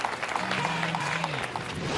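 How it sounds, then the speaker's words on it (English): Sustained audience applause fills a hall at a corporate awards ceremony for best companies to work for, dense and steady clapping with faint voices underneath. "So keep the applause coming."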